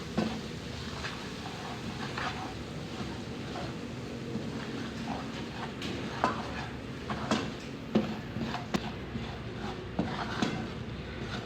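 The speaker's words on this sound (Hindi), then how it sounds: "3 टेबलस्पून मैदा डालेंगे और इसको 3-4 मिनट के लिए भून लेंगे।" Flour (maida) stirred and roasted in a pan for white sauce, with steady soft scraping and stirring and occasional utensil clinks against the pan, fairly quiet and close, no talking.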